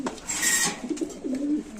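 Caged Pakistani Giribaz pigeons give soft, close coos in a brief rolling burst, with a faint bright whistle-like tone early on.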